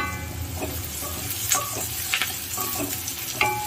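Garlic, onion and fresh curry leaves frying in hot oil for a Tamil tamarind curry, a close, continuous sizzle and crackle with a few sharp spatula clinks against the pan, no voices.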